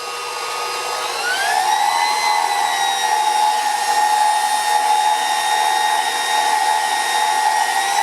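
A Hamilton Beach stand mixer runs steadily on its folding speed, a continuous motor whine that rises in pitch over the first second or two and then holds even and loud, with no talking.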